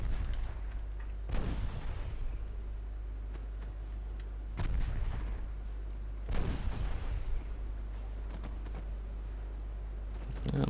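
Naval gunfire in Ultimate Admiral Dreadnoughts rumbles over a low, constant engine hum, with three heavy, widely spaced booms each trailing off into a long roar, and faint crackling shots in between.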